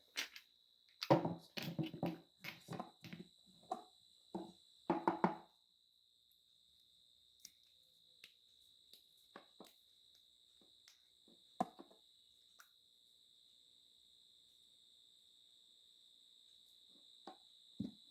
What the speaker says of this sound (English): C for cricket.